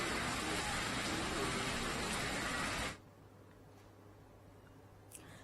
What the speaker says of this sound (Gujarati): તો દાહોદના ધાનપુરમાં ધોધમાર વરસાદ પડી રહ્યો છે।